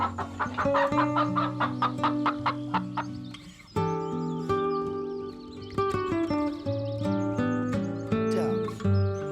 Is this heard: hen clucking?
yes